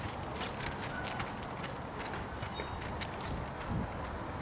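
A horse's hooves clip-clop steadily on the ground of a riding arena during western dressage schooling, a faint, even walking rhythm under soft ambient noise.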